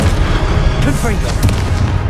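An explosive fire spell goes off in a fantasy video game, with thumping booms and crackling bursts over a dense, rumbling game soundscape, close and loud.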